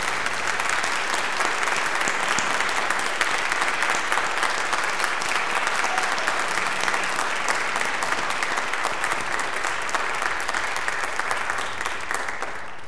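A church congregation at a Pentecost Sunday worship service applauds its choir with steady, sustained clapping that fills the room for about thirteen seconds, without any voices over it.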